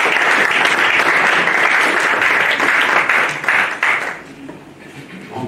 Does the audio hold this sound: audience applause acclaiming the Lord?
yes